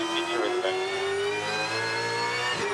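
Supercars race cars compete at the 2019 Newcastle 500 street race. A loud, steady engine whine climbs in pitch as a car holds high revs close by, with no voices.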